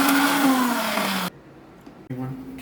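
Kitchen mixer grinding garlic, shallot, ginger, black pepper, cumin and a little tamarind into a masala paste for a Kanyakumari fish fry: a loud whirring motor whine for about a second, abrupt silence, then a second burst.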